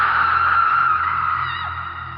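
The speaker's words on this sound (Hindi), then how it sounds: "एक भयानक सी चीख के साथ" Terrifying scream sound effect in a Hindi horror story, a single sustained shrill cry that holds steady and fades slightly toward the end, loud and isolated.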